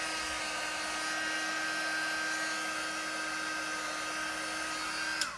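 A hair dryer blows steadily on chalk paste, a continuous close whirring hum with a faint high whine that holds even for several seconds before a brief click near the end.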